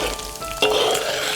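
Pork back fat slowly rendering in a wok for a noodle topping, giving a steady, close sizzle and crackle that brightens after a brief stir partway through.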